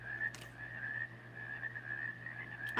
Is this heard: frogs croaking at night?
yes